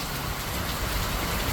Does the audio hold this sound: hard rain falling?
yes